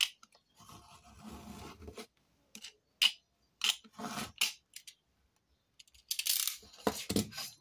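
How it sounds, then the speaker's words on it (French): Scissors cut paper in a straight line for a scrapbook mini album folio, making several short, close, crisp snipping bursts with quiet pauses between them. "On va couper droit."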